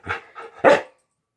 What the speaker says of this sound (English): Why are you barking? Get down, crazy dog.